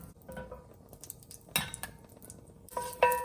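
Utensils clink against a cooking pan as bacon oil is spooned out, a few sharp metallic clinks and scrapes over a low kitchen background, with louder strikes near the middle and end.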